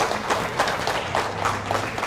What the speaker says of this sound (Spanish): Un fuerte aplauso para el doctor Marco Tulio Gutiérrez